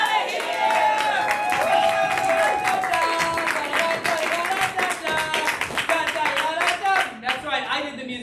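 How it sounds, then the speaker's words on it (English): An audience at an all-hands meeting claps and cheers in a round of applause, with voices ringing out through the clapping before it tapers off near the end. "we're all gonna yell, get out of here with a big round of applause"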